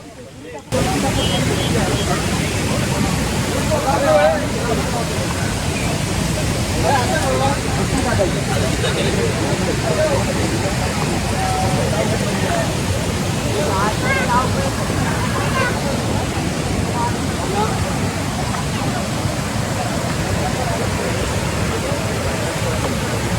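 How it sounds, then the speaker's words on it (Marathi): A waterfall roars steadily nearby with clear water flowing, a loud, unbroken rushing wash under people talking. "समोर असा हा धबधबा दिसतो इकडून पाणी वाहतंय स्वच्छ असं"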